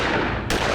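A single loud, sharp gunshot blast cracks out abruptly partway through, followed by a broad rumbling tail in an otherwise noisy scene, with no voices.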